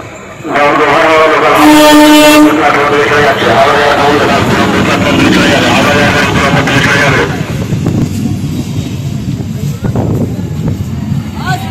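A loud Goghat–Howrah local train rumbles into platform 2 with a brief horn blast, then the noise drops to a quieter platform hum with voices.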